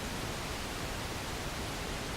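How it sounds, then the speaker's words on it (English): Pink noise test signal playing continuously, a dense, even hiss spread across the whole range with no breaks or changes. "So for that, I'm gonna use pink noise."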